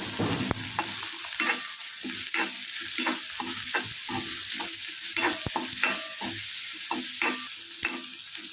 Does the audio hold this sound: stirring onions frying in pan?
yes